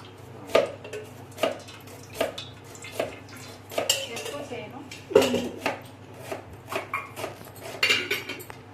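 Dishes are stacked for washing: repeated close clanks and clinks of plates, pots and cutlery set down one after another at an uneven rhythm.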